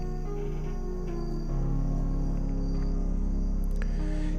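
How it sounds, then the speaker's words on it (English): Crickets chirp steadily outdoors at night, forming a continuous, fairly loud high-pitched trill with no talking over it. "Can you guys hear the beautiful crickets outside?"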